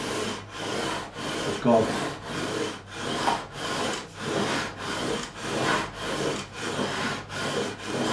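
Abrasive rubbed back and forth over the frets of a Crafter GAE45/N guitar during a fret levelling job, a steady rhythmic scraping stroke roughly every half second, close and fairly loud.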